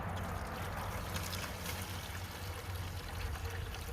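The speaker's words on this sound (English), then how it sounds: "you take your bucket and your bag and you start pouring." Maple sap pours steadily from a collection bag into a bucket outdoors, a continuous close splashing trickle lasting several seconds with no voices.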